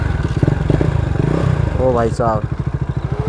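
KTM Duke 250 motorcycle engine idling and pulsing with a throaty, rapid thump close by during a test ride, while a man exclaims over it.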